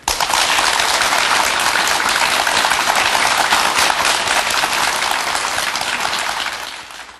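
Applause from a studio audience on a Busan health television program rises quickly into a thick, hissing roar, holds steady for about seven seconds, and fades slightly at the end.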